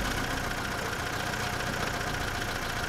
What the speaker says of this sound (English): This is 1/4 rate, a scaled-down automobile engine.